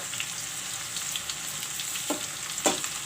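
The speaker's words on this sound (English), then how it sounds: "the potato also is fried up. Can see here, it's breaking up." Potatoes frying in a pan give a constant near sizzle, punctuated by a few soft stirring scrapes and knocks, with no voices.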